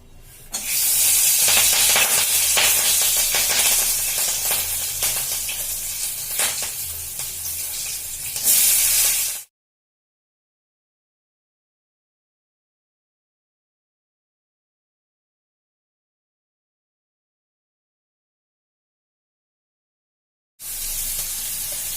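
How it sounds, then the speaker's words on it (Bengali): Chillies hit hot oil in a kadai and crackle and sizzle loudly and continuously for about nine seconds. After a long stretch of silence, the sizzling returns near the end. "লঙ্কাগুলো কড়াইতে দেওয়ার পরে এত ফাটলো, আমি নিজে ভয় পেয়ে গেলাম"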